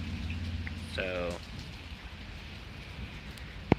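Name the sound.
rain and thunder during severe thunderstorm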